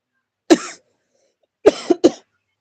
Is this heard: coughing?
yes